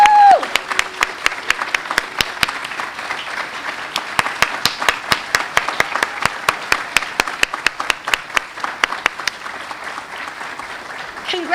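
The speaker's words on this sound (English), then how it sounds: "And now the audience may applaud for these wonderful" Audience applause at an evening justice-advocacy gathering: steady, dense clapping sustained throughout, fairly close and even in level, with a brief whoop at the start and a voice coming back in at the very end.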